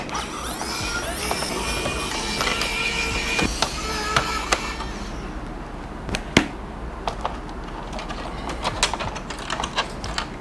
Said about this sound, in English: There's a few screws that we're going to have to remove